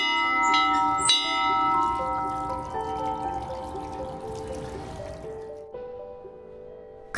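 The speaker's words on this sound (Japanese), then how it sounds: "九州鉄道起点の門司港駅で鳴らす旅立ちの鐘です。" A departure bell at Mojiko Station, the Kyushu Railway starting point, is struck once or twice, its bright metallic tone ringing out and decaying slowly with a long shimmering tail over quiet station ambience.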